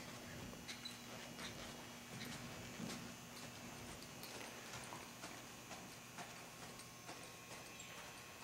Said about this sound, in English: Here we're at the jog trot.